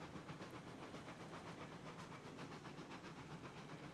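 Steam locomotive in Railroads Online labouring uphill with a heavy train, a dense hiss of steam under rapid rhythmic chuffing, steady and moderately close throughout.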